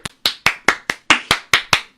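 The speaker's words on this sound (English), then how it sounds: "So I'm giving myself a round of applause." Eight sharp hand claps in a quick, even rhythm, close and loud, a lone person clapping rather than a crowd's applause.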